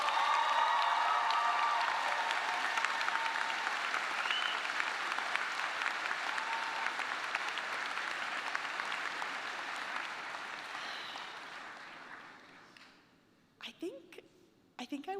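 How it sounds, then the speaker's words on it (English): Large crowd applauding at a baccalaureate ceremony at Rhodes, a sustained roar of clapping that slowly fades away over several seconds before a voice speaks briefly at the end. "please give a big round of applause"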